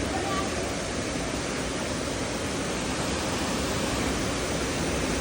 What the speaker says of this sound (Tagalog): nakakita rin kami ng falls